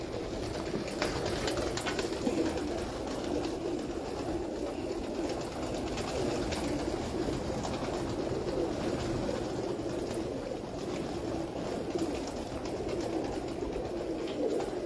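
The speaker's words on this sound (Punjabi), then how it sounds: "ਇਹਨਾਂ ਦੇ ਕਬੂਤਰ ਵੀ ਮਤਲਬ ਜ਼ਿਆਦਾ ਲਾਖੇ ਨੇ" Lakha pigeons coo on a rooftop during pigeon keeping in Pakistan, a steady, soft murmur of low cooing that runs throughout, fairly close, with no talk.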